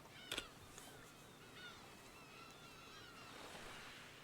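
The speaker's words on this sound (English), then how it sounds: "I hear seagulls." Seagulls cry by the sea in the farming game Story of Seasons: Friends of Mineral Town, with a sharp call near the start and faint, high, wavering calls over steady surf-like ambience.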